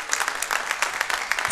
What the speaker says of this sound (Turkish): Burada alkış istiyordum ben biraz be.